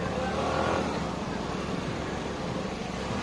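An off-road vehicle drives along a beach at Pir Jahania, its engine a loud, rough, continuous rumble that swells slightly early on and then holds steady close by.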